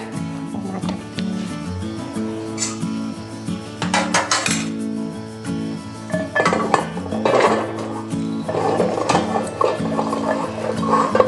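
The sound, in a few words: transferring soaked cauliflower into a bowl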